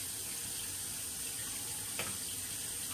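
White vinegar poured into a bowl, a steady faint hissing splash with no pauses, holding evenly for the whole stretch.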